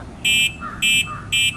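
An E-Motorad Doodle V4 electric bike's weak buzzer horn gives three short, evenly spaced buzzing beeps, thin and tinny, with faint background noise between them.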